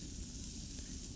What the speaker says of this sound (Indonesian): Aduk-aduk dan tumis sampai harum.